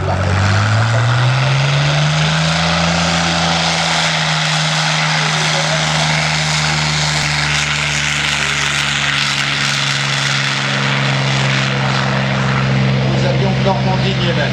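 Russian Yak propeller aircraft at an air show at La Ferté-Alais, its engine drone steady and loud throughout with a pitch that rises early then holds, under continuous talk.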